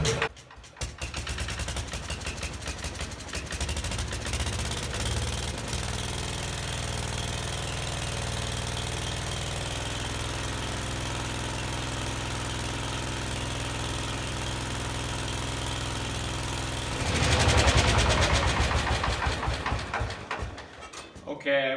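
A 1968 Case 155 garden tractor engine fires up and settles into a steady, close running drone with a rapid chugging texture, then swells louder near the end before easing off.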